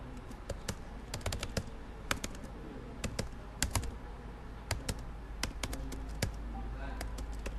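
Keys clatter on a computer keyboard while entering text into an Excel 2016 spreadsheet, irregular close taps in quick bursts and pauses over a faint room hum.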